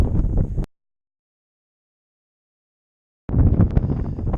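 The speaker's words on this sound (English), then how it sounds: "I know it's windy, but I hope you can hear this." Gusts of wind on the summit of Provo Peak, above 11,000 feet, buffet the microphone in two bursts separated by nearly three seconds of complete silence.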